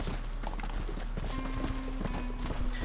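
Rhythmic horse hooves clip-clop steadily in the Red Dead Redemption video game, the fastest horse on offer, moving at a brisk pace over a continuous backdrop of game ambience and music, close and fairly loud throughout.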